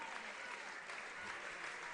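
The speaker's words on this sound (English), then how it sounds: "And the round of applause" Crowd at a football match in Perth applauding steadily, a dense, even wash of clapping heard from a distance, with faint voices mixed underneath.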